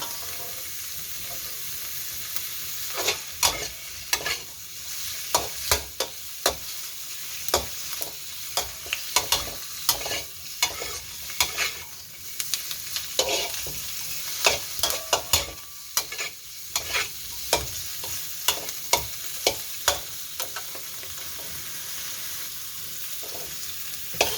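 Shrimp stir-fried over high heat in a pan for tom yum fried rice, a loud continuous sizzle punctuated by frequent sharp scrapes and clanks of the spatula against the pan.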